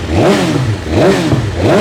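BMW M 1000 RR superbike with a new exhaust revving, two loud, close blips rising and falling in pitch in quick succession, engine alone with no talk.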